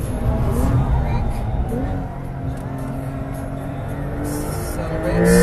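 A Porsche Carrera GTS Cabriolet accelerates hard on a race track, its engine droning loud and steady with a brief dip in the middle before it climbs again at the end, and a voice talks over it.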